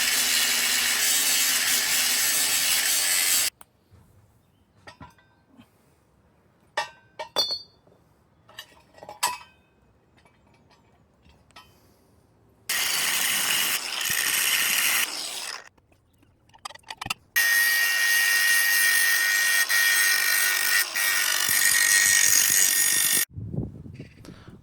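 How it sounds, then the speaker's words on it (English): A steel shaft from the top of a post on a homemade motorcycle tyre changer is cut, with long, loud stretches of harsh grinding or sawing broken by quieter gaps filled with clinks and taps of metal. "So I'm going to remove this shaft from top of the post and cut a piece from the top"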